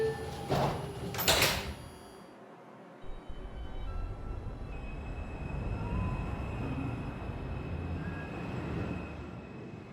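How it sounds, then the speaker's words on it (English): An R142 subway car on a Manhattan-bound 4 train, with new door motors, sounds a brief chime as its doors slide shut, followed by a thud and then the steady rumble of the car starting to move. "Stand clear of the closing doors"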